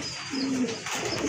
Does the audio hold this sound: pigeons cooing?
yes